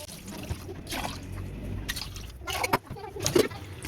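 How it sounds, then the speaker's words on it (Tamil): Water poured into soaked rice in a pot while making beef biryani, a steady trickling pour with small splashes and clinks, fairly close, with faint background noise. "அதுக்கு 3 உலக்கு தண்ணி சேர்த்துக்கலாம்."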